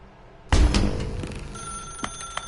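Telephone in The Stanley Parable rings with a sharp, loud start, followed by a sustained bell tone with a couple of further strikes, alone without speech.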